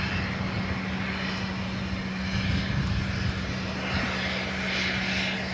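A Boeing 747 known as the Queen taxis toward runway 24 on the north side at LAX, giving a steady, loud engine rumble and whine that holds evenly throughout with no voices.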